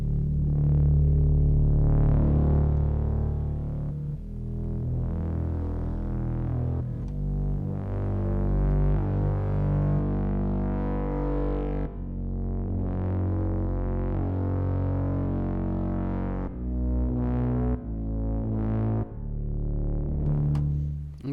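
A heavy, distorted bass synth tone plays continuously in sustained notes, loud and gritty with buzzing harmonics throughout.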